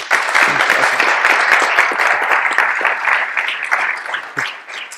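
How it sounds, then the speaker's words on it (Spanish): A loud, close crowd of listeners at an accounting standards forum claps steadily, a thick even roar of hands that thins slightly toward the end. "únanme a darle un aplauso a Juan por el..."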